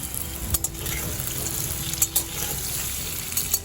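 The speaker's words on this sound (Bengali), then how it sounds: "লবণটা ভালো করে মিশিয়ে মিডিয়াম টু হাই ফ্লেমে কুমড়োটা ভালো করে ভেজে নেব।" Pumpkin pieces salted and frying in a pan over medium-high flame, giving a steady, fairly loud sizzle broken by a few sharp utensil scrapes, with no voices.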